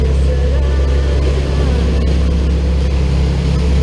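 A trawler cruises on autopilot at about six to seven knots on the bay near Shady Side, Maryland, its engine a loud, steady low drone with water rush that continues without a break.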